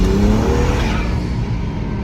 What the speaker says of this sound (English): This turbo, it sounds ridiculous.